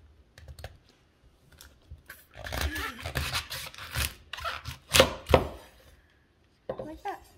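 A knife cuts through artichokes on a board, giving a series of sharp, uneven chopping thuds and crisp crunches in bursts, close up, with short pauses between cuts and no talk.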